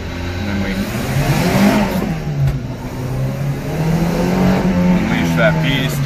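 A supercharged Subaru Sambar mini truck engine revs hard, its loud buzzing drone rising and surging in waves and staying close and continuous throughout.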